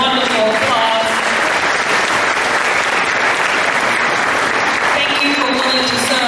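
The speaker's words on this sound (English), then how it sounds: "let's give all of our candidates a wonderful applause." An audience at a candidates' forum applauds the candidates with dense, loud, sustained clapping that holds steady throughout.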